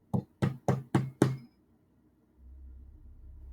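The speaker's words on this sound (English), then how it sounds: "You hear a knock back." Five sharp knocks on a door in a quick even rhythm, close and distinct, followed by a pause and then a low rumbling background hum.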